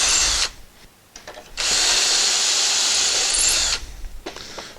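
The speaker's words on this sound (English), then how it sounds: "we're just going to drill it through" Power drill boring through a cabinet guided by a Kreg cabinet hardware jig, a short start, a brief pause, then a loud sustained whine for about two seconds before winding down.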